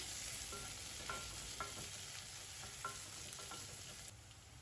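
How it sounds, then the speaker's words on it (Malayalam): Onion sautéing in a pan with ginger, green chilies and curry leaves for a Kerala egg curry, a steady close sizzle broken by several light scraping stirs of the spatula, with no talking. "വീണ്ടും നല്ലതുപോലെ ഒന്ന് വഴറ്റിയെടുക്കണം"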